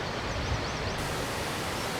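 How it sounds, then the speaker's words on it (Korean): The 68-metre Biryong waterfall on Baekdu Mountain pours down in a dense, steady roar of rushing water, heard as unbroken broadband noise without pauses or voices. "68m 높이에서 떨어지는 물소리는"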